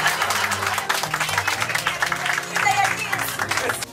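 Wedding guests applaud together in a steady wash of clapping beneath music and voices, filling the hall at moderate loudness.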